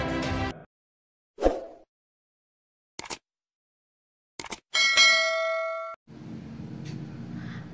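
A notification bell effect: a few short separate clangs and dings with silent gaps, then one longer ringing chime that fades into a soft murmur.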